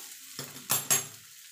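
A spoon stirs fish filling for fish chops, made with katla fish and chopped green chillies, in a pan. There are a few soft scraping strokes over a faint sizzle, with no voices.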